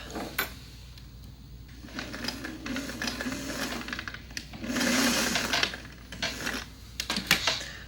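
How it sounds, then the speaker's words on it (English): A sewing machine stitches about a quarter inch along the hem of a pair of pants with a vent or split, running in short bursts with brief pauses, close and moderately loud with no voices. "Stitch about 1/4 inch right there, turn these inside out, we'll hem it up."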